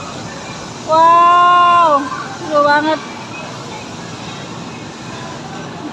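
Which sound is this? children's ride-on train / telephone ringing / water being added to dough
children's ride-on train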